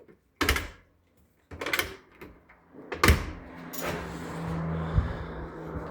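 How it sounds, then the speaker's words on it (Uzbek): Newly installed double-leaf door being opened and closed, several sharp knocks and thumps separated by short quiet gaps, then a longer rattling stretch with a final bang; no talking. "eshik ishlashini qarayman."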